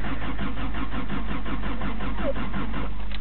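A 1986 Toyota engine is cranked and fired on a cold start attempt, giving a steady rough mechanical churn throughout with a fairly loud, continuous rhythm and no voices.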